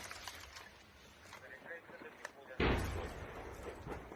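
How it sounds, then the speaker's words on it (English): Artillery fire booms around a Ukrainian city at war, a single heavy blast landing partway through and rumbling away over faint background noise, with a voice audible nearby. "Artillery fire is still falling around the city"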